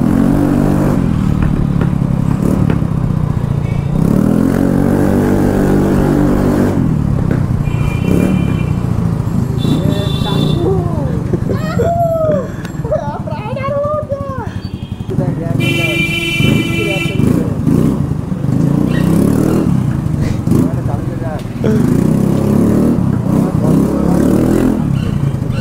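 A Fascino scooter with its exhaust dB killer removed revs loudly and repeatedly up close, a harsh rasping engine note rising and falling, while people talk over it.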